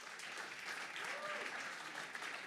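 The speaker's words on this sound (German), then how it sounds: "Aber Applaus für das Paar." Studio audience applauding a quiz pair on a German beer-betting quiz show, a steady, fairly faint wash of clapping that holds evenly throughout.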